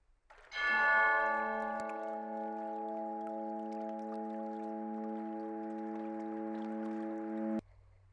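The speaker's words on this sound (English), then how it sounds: "A loud, resonant chime." A single loud, resonant bell chime struck once, its clear ringing tones sustaining evenly for several seconds before cutting off abruptly.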